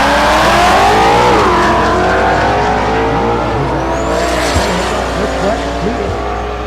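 A Duramax-powered Chevelle drag car runs at Thunder Valley in Noble, Oklahoma, its loud diesel engine roaring and revving close by with shifting pitch and a brief tire squeal, while an announcer talks over it.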